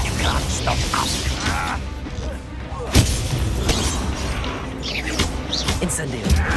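A Confringo fire spell blasts in the video game Hogwarts Legacy, a sharp explosive crack near the three-second mark amid a dense, continuous din of combat effects and crashing impacts, with voices speaking in the mix.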